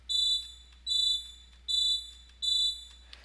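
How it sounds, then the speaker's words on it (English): A high-pitched electronic fire alarm sound effect in a video game beeps four times in a steady, evenly spaced pattern over a low background hum. "And that was the fire alarm effect that we had."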